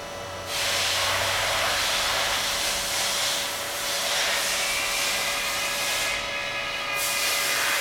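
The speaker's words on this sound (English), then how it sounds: "Now the press will open back to the bottom position." A 1000-ton hydraulic press with 72-inch heated platens hisses steadily as it opens back down after decompression, a loud continuous rushing noise with a faint tonal hum, easing slightly near the end.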